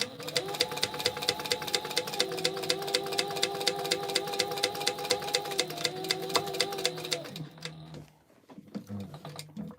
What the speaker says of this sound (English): we're just going to top stitch here, and that means I'm going to increase my stitch length a little bit